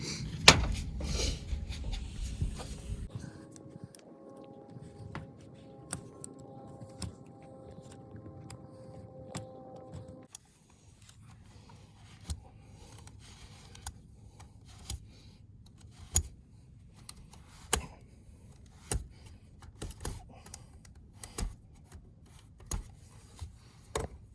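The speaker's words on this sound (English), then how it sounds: "We're just gonna use a simple box knife cutter, and we're gonna cut out this lead boot right here." Box knife cutting through a lead roof pipe boot: soft scraping at first, then a series of scattered clicks and snaps from the blade working the lead, close and fairly quiet with no talking.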